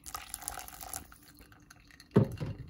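Water poured slowly by hand into a filter coffee setup at home, trickling and dripping through, with a louder splashing burst near the end.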